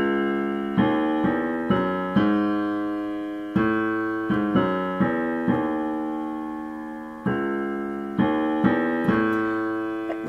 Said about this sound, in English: You then add in the bass line